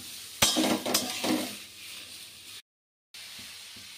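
Bottle gourd pieces are stirred in a cooking pan, producing a few quick metallic clinks and scrapes up close, then a softer hiss before the sound briefly cuts out.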